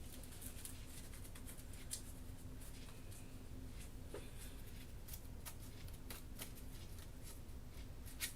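Board game cards from Kingdom Death: Monster being shuffled, a quiet run of rapid riffling clicks and flutters repeating across several seconds, faint and close with no talk.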